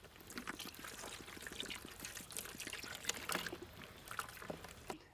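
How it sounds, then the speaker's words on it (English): Water pours into a bowl of chicken biryani marinade with biryani masala, red chilli powder and curd, a close, soft splashing trickle that runs steadily for several seconds. "Add some water."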